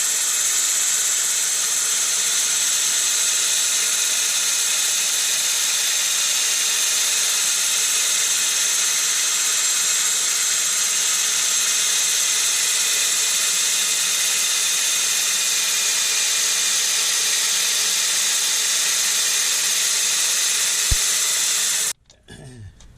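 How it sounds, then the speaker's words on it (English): A continuous high-pitched hissing whir of sanding a sapele wood bowl on a spinning lathe at reduced speed, steady and close for a long stretch before stopping abruptly at the end. "So we're going to do a bit of sanding now, so speed down a little bit."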